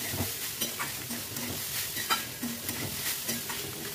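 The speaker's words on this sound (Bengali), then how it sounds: "নেড়ে ছেড়ে আমি ভালো করে ভেজে নিচ্ছি।" Radish mash ingredients sizzle softly in a pan while a utensil stirs and scrapes with light, irregular knocks against the metal, fairly quiet and steady.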